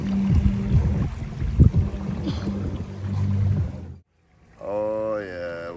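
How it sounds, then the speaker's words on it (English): Small outboard motor pushing a canoe up a shallow stream, a low steady drone with splashing water for about four seconds, then a brief drop to near silence before a person starts talking. "we're making it up the stream. It's shallow, the motor's still doing it for us."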